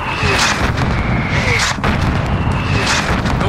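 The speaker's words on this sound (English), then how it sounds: "There's still a mortar out there." Mortar and artillery fire in Call of Duty Modern Warfare booms repeatedly, with several heavy thuds over a loud, continuous battlefield rumble.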